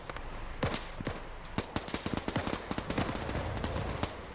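Gunfire in a war video game set at the Battle of Raate Road, rapid overlapping shots and automatic bursts crackling near and far in a dense, irregular volley.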